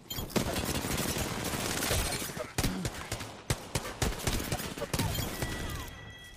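Rapid bursts of automatic gunfire from another squad in Apex Legends crackle densely and loudly, broken by short gaps and sharp single shots, continuous for several seconds.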